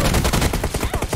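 Rapid automatic gunfire from PUBG Mobile, a burst of about a dozen evenly spaced shots over just over a second, loud and close with no talk.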